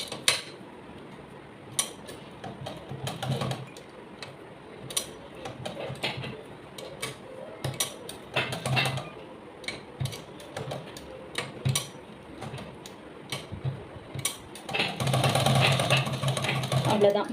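A sewing machine stitches practice paper in uneven bursts of rapid ticking and clattering, with pauses between runs and a louder stretch near the end.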